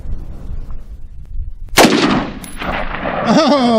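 A single sharp rifle shot from an ATI Alpha Maxx AR-15 at an outdoor range, loud and close, ringing out over low background noise, with a metallic clang and a voice speaking afterward.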